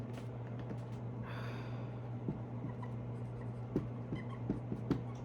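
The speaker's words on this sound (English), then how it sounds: "let me write this down" Chalk or marker scratches across a board during a lecture on algorithm analysis, producing faint, irregular strokes and taps over a steady low room hum in a quiet hall.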